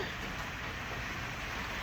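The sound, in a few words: rain falling on a rainy Monday in Orlando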